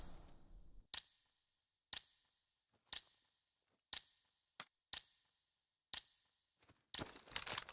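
A planted bomb ticking in a first-person shooter match, with sharp, evenly spaced clicks about once per second over near silence, then a burst of noisier crackle at the very end.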